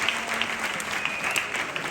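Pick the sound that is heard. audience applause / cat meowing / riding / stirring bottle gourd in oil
audience applause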